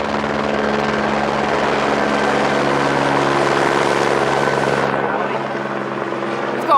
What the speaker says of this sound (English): there's a chopper as well